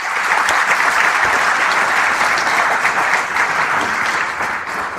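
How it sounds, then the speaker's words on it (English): Steady, dense applause from a ceremony audience at a sports hall of fame induction fills the hall, sustained and loud throughout without a break. "they deserve a round of applause"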